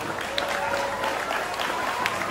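An audience claps to welcome guests arriving at a school gathering, a brief, fairly soft burst of scattered applause with some crowd murmur mixed in.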